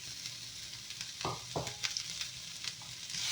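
Garlic, ginger, green chilli and onion sizzling in a pan over lowered flame, with a steady close frying hiss and a few scraping stirs of a utensil, growing louder toward the end.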